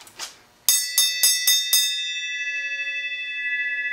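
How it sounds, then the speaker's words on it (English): A bell rung to mark the end of an evening: after a brief rustle, five quick, bright metallic strikes ring out close by, then a long shimmering tone slowly decays. "Would you care to ring the bell to signify the end of the evening?"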